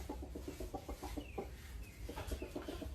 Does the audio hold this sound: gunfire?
no